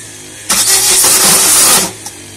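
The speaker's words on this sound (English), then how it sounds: "Unfortunately the car didn't want to start" A car engine being cranked by its starter without catching, one loud continuous whirring burst of about a second and a half, close by, which then cuts off into quiet.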